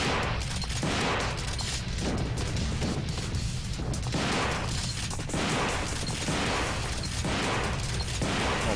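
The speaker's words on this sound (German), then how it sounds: "Noch ein paar Schüsse." Gunshots in the video game Devil May Cry 2 during a boss fight, a steady barrage of loud, rapid crashing blasts lasting several seconds over a dense, continuous game mix.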